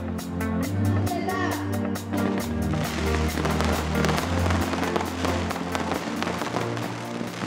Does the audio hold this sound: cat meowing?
no